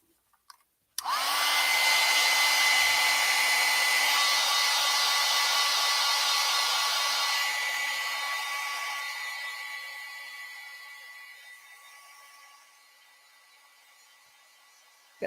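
A hair dryer blowing on acrylic paint for a clouds painting, switched on abruptly and running as a steady loud whooshing whine for over ten seconds, easing slightly before cutting off, with no talk.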